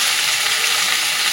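Vegetables with eggplant fry in a pan without salt, giving a steady, close, even sizzle with no voices.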